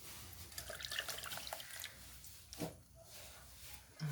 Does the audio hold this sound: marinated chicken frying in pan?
no